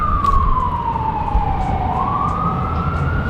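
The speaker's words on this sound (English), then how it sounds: "every time there's an ambulance or a fire truck or anything, it's right by our window" An ambulance or fire truck siren wails along a city street used as a fire route, one long steady tone gliding down then back up, loud and near over a constant rumble of traffic.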